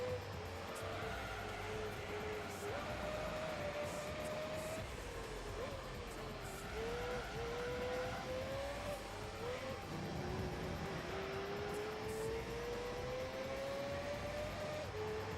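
A race car engine in Gran Turismo 3 A-Spec drones steadily, its pitch climbing and dropping through gear changes as it accelerates along the track, continuous and moderately loud under background game noise.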